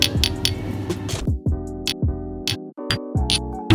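Riga Black Balsam bottle sampled as percussion: sharp, close glass clinks and taps in an irregular chopped pattern, ringing briefly between hits, with no voices.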